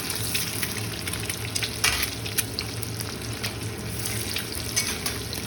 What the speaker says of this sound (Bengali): কত ডিম আছে, হালকা করে সবগুলো একদম ভেজে নিচ্ছি